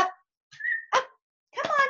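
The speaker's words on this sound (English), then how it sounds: "Look at my beautiful dog" A pet puppy gives a thin whimpering whine followed by a short sharp bark and a longer yelping cry, all close by in a quiet room.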